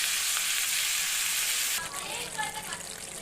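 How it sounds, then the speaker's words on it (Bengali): Chicken frying in a pan for a light, low-spice curry, a dense steady hiss of sizzling oil that shifts partway through as the pieces are stirred, close and fairly loud. "সঙ্গে ভালো করে মিশিয়ে দেবো। নেড়ে চেড়ে একটু ঢেকে দেবো।"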